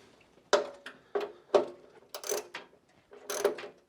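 A hand ratchet clicks through about six short bursts while loosening or tightening a bolt on a Commodore PET computer monitor, each burst a crisp close-up rattle of pawl clicks separated by brief pauses.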